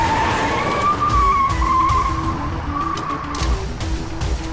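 A car skids hard with a long wavering tire squeal over a rumbling engine during an evasive driving chase in an action movie, loud and close and with no talk.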